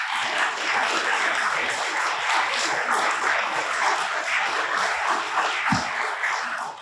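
An audience at a State of the City address applauds Mayor Lucy Johnson of Kyle, a dense, sustained wash of many hands clapping that holds steady throughout and trails off slightly at the end.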